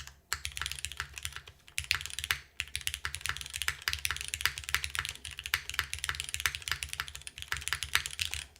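Steady typing on a TOFU TKL gasket-mount mechanical keyboard, a fast run of close, crisp keystrokes with a soft thocky undertone, heard alone without talk.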